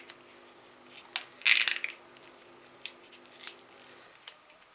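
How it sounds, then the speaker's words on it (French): A packaged Christmas gift from a winter-garden themed workshop is being unwrapped, with a short burst of crinkly paper rustle and scattered soft taps and crackles, close and fairly quiet. "Je vais vous le déballer parce qu'il est, il a l'air trop beau."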